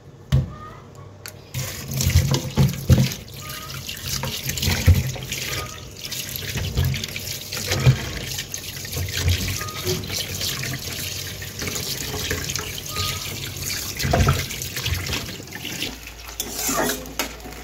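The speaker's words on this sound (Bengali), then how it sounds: "বাকিগুলি ভালো করে ধুয়ে জলটা ভালো করে ঝরিয়ে তারপর রেখে দেবো" Fish pieces are rinsed under a running kitchen tap, water splashing steadily into a sink with occasional louder bursts and drips, close and continuous throughout.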